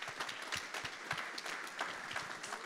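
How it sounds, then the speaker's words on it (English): Quiet applause from a conference audience for a pitch session winner at a tech center summit, scattered clapping lasting a couple of seconds, somewhat distant. "Round of applause."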